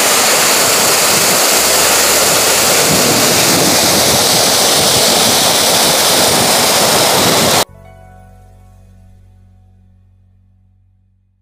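Roaring waterfall spray on a northeast India road trip, a loud, dense, unbroken rush close to the microphone that cuts off abruptly, leaving a low fading hum.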